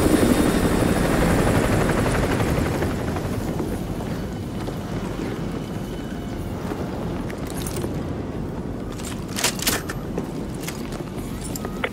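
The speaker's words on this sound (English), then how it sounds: "Enemy helo patrolling the perimeter." Helicopter from an enemy patrol in the Modern Warfare 2 Remastered game, set on a Russian oil rig, with a steady rotor drone that starts loud and eases off slightly under wind-like rushing noise, plus a few brief sharp bursts near the end.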